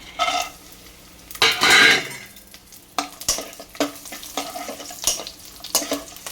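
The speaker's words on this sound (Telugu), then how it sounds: "ఈ డ్రై ఫ్రూట్స్, సేమియాలు అన్నీ నెయ్యిలో ఫ్రై చేసుకుందాం." Dry fruits and vermicelli frying in ghee for payasam, with bursts of sizzling and repeated scraping strokes of a spoon against the pan, close and fairly loud.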